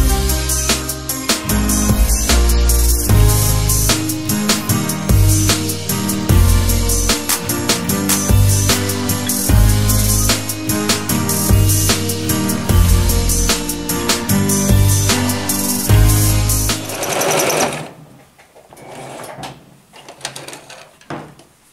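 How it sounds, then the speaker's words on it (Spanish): A home sewing machine stitches a small zigzag hem on children's leggings. It runs as a loud, rapid mechanical clatter for about seventeen seconds, then stops, leaving quiet handling noises. "vamos a hacer una bastilla pequeñita, centímetro y medio, y también la vamos a coser con zigzag."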